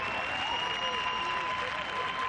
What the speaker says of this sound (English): The crowd salute their players.